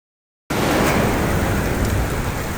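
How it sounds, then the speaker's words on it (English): Heavy rain from a massive nighttime thunderstorm pours over a construction site with a concrete foundation and forms. A dense, loud, steady hiss begins abruptly after a short silence and continues without a break. "it's the next night, and it's a massive thunderstorm"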